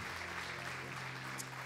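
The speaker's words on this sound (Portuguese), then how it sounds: "Você pode aplaudir ao Senhor" A church congregation at an evening worship service applauds softly, a faint wash of clapping over a low sustained musical hum, heard only briefly.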